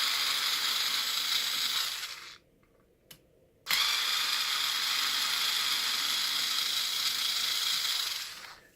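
Steady ratcheting clicks from a 2.0 mm Allen key loosening two screws on an E-Revo 2.0 RC truck, near and continuous with one short pause partway, no talk.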